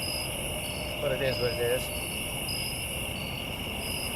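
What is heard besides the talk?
crickets chirping at a night campsite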